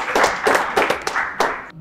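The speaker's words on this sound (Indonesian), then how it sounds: "Tepuk tangan buat ketiga capres dulu." A short burst of hand clapping from a small group at a comedy mock presidential debate, uneven and bunched, fading out after under two seconds.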